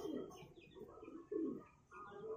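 Highflyer pigeons cooing, soft throaty coos repeated several times in a low rolling rhythm, close but faint, with a few light chirps and no talk.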